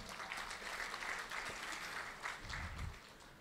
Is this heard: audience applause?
yes